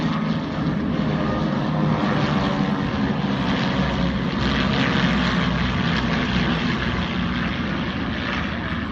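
Air Trainer training aircraft flying together in formation at the Tyabb airshow, their propeller engines producing a loud, steady droning roar that holds for the whole stretch with no talk.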